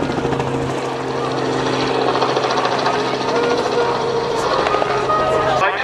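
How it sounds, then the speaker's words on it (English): Helicopter at an airshow idling on the ground with its rotors turning, a loud, steady whine and rapid rhythmic thrum heard close up, voices faintly mixed in. "So that you can stand safely under the rotor and get in and out with the rotors running."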